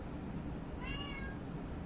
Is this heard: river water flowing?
no